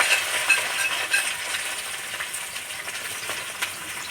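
Mixed vegetables fry together in hot oil in a kadai, a loud, close, continuous sizzle and hiss with occasional crackles, no voices.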